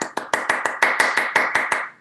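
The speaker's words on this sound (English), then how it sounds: "you hear an applause because each of you played" Applause for festival performers at a guitar, voice and flute music festival, heard as a short run of distinct, fairly close hand claps in a steady rhythm, about ten claps over two seconds with no talk.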